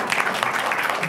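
An audience at a New York City public forum on justice and youth gives a burst of applause: dense, steady clapping from many hands, close and fairly loud for its whole short length.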